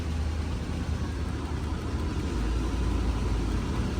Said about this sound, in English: Let's give it some throttle and see if it misfires under load.